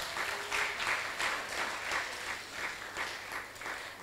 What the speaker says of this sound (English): You can also clap for that.